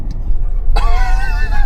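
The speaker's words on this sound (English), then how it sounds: "Pretty cool here, driving on the beach." A camper van driving on the sand at Black Rock Sands beach near Porthmadog, a loud, close steady rumble of engine and tyres with wind buffeting throughout.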